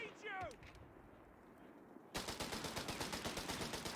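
Gunfire in Company of Heroes 3: after a quiet stretch with a brief whistling sound, a sudden sustained barrage of rapid automatic shots bursts in and continues steadily, loud and close, with a voice talking faintly underneath.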